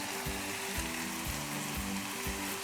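Chopped onion, garlic and ginger fry in a pan for a tempering, a steady close sizzle running throughout with a few faint rhythmic scraping stirs and no talk.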